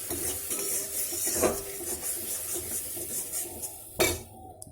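A spoon scraping and clinking in a pan while masala fries, with a soft steady sizzle under several sharper metallic knocks.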